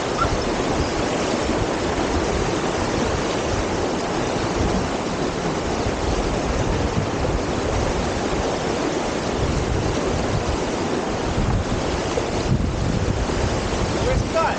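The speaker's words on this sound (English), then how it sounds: "the water is quite fast flowing here, and falling in would not be fun" Fast-flowing river water at a crossing rushes in a dense, continuous, loud roar that stays steady throughout, with wind buffeting the microphone.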